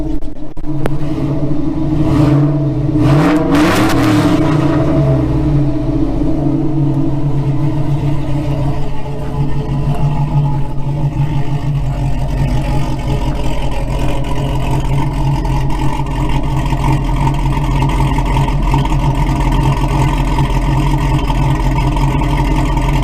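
An old vehicle engine that had sat for about fifteen years idles loudly up close, a deep steady rumble after an initial revving, running continuously as it warms up.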